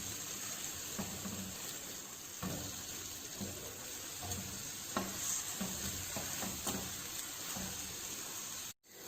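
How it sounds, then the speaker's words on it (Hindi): A Turkish-style chicken burger patty fries in a pan with a steady, soft sizzle, broken by repeated light scrapes and taps of a utensil. No voices. "बस दोनों साइड से हमें अच्छी तरह से इसको पका लेना है"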